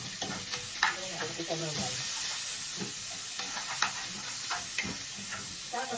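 Meat being stir-fried and sautéed in a pan, a steady broadband sizzle with scattered scraping clicks from stirring throughout, while a person talks briefly over it.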